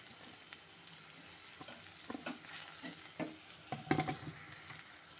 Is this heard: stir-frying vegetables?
yes